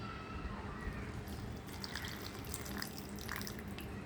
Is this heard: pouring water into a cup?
yes